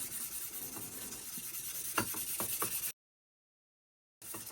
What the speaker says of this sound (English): I'm using a block sander so I don't actually go over the edges